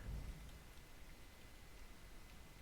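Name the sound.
lightning breath attack in a video game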